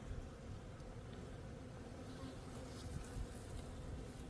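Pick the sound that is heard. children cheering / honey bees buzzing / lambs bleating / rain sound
honey bees buzzing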